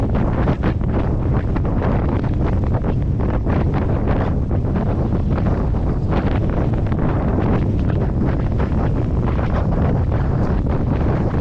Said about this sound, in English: it's pretty windy. It's making it really hard